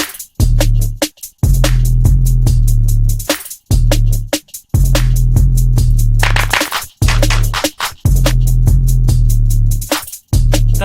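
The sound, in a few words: trap drum pattern with clap samples in FL Studio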